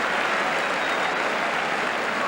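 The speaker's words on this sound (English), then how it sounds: "But applause all around Highbury, not so much for the finishing effort" Crowd applause rings around Highbury football stadium during an Arsenal versus Everton match, a steady, distant wash of clapping across the stands with no break, heard alone.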